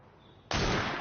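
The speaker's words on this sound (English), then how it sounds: "That sounded like a second gunshot." A single sudden gunshot in a Victorian London scene from Assassin's Creed Syndicate, cracking loud out of a quiet background and leaving a broad, sustained roar of echo and noise behind it.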